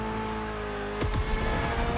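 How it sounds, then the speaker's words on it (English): A Mitsubishi inline four-cylinder of about 280 horsepower, tuned for gymkhana in The Crew Motorfest racing game, drones steadily, then a sharp gear-shift sweep cuts in near the middle before the engine carries on loud and close, with no talking. "Mitsubishi gave us a nice inline four-cylinder with already 280 horsepower that are gonna turn up a bit"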